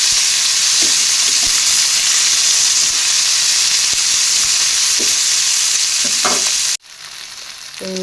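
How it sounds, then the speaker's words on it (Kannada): Onions and tomatoes fry in a pan with a steady, loud sizzle and hiss, broken by a few soft stirring knocks before the sound drops off abruptly near the end. "ಟಮಾಟೆ ಹಣ್ಣನ್ನು ಚಲೋ ಮೆತ್ತಗಾಗಂತ ಫ್ರೈ ಮಾಡ್ಕೊಂಡ್ರಿ ಅದ್ರೊಳಗೆಲ್ಲ."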